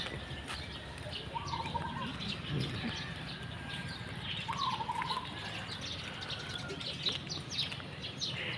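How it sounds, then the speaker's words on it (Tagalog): Birds chirp on a morning outdoors during a walk, a few short calls rising here and there over a steady hiss of ambient background noise, moderately distant. "naririnig mo yung mga birds. Gising na sila."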